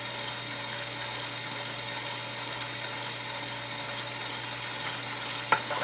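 A power case trimmer cutting 6.5 Creedmoor brass, a steady, moderately loud motor whine with grinding noise running throughout, then a brief sharp click near the end.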